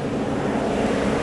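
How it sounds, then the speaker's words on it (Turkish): BMW engine idling smoothly after an ignition-coil misfire was fixed: a steady, even low hum with no stumbles, continuous through a short moment. "Şu anda motor gayet düzgün çalışıyor. Sessiz ve teklemesiz."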